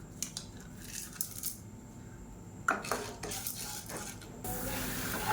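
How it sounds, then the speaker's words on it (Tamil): Chana dal frying in hot oil in a pan for a roadside-style tomato chutney, a soft steady sizzle mixed with clinks and scrapes of a utensil against the pan, close and fairly quiet with no talk. "கடலைப்பருப்பு நல்லா பொரியுது"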